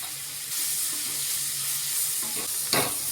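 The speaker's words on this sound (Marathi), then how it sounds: "बघा आता कांदा टोमॅटो छान परतन झालेला आहे" Onion and tomato sautéing with salt and turmeric in a pan, with a steady moderate sizzle, a few soft stirring scrapes and one sharper clack near the end, no talking.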